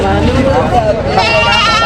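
Goats bleating loudly and close at a livestock market, several wavering cries one after another over a busy background of people talking.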